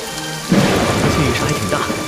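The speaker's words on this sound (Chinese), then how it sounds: "下雨了" Heavy rain bursts into a loud, dense downpour with a deep rumble of thunder, close and wide, with no talking.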